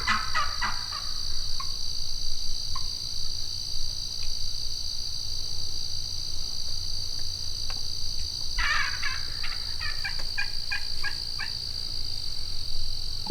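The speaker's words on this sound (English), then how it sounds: "several jakes and both gobblers are within 40 yards" Several Osceola wild turkeys, gobblers and jakes, gobble outdoors in a hunting setting. Bursts of gobbling sound at the start and again in a louder cluster near the end, within moderate distance, over a constant insect drone.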